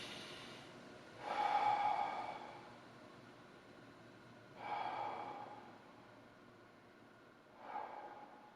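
Three slow, deep breaths taken during a neck posture exercise, each a soft, close airy whoosh separated by quiet pauses, with no talking.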